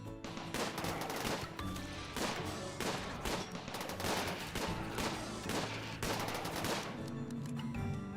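Turrets in a Water World game fire rapid, repeated bursts, a dense, close rattle of shots that keeps going throughout, with no talking.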